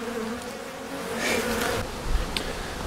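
Bees buzz around an opened beehive with a dense, steady drone close to the microphone, as several insects swell and fade while passing near.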